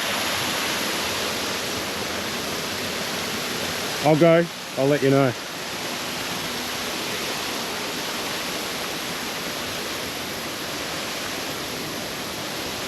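A waterfall rushes with a steady, loud broadband roar for the whole stretch, while someone briefly speaks a few words near the middle over it.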